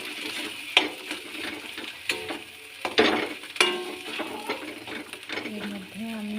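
Dal stirs and sizzles in hot oil with hing and ginger paste for dal puri filling, with a spoon scraping and knocking against the pan in irregular bursts and soft sizzling between.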